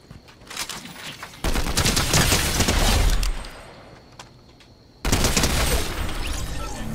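Fortnite Chapter 3 gunfire rattles in two loud, dense bursts of rapid shots separated by a quieter gap, close and alone without speech.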